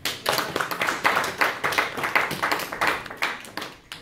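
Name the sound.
congregation clapping and cheering for Jesus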